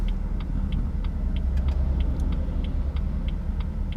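A BMW M240i driving over small road bumps, a steady low road rumble inside the cabin with regular faint ticking and light thumps.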